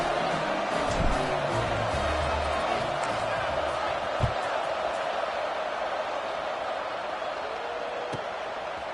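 A football stadium crowd during a Cal versus Ole Miss game, a steady broad roar of many voices filling the background under a commentator's voice, with occasional thuds.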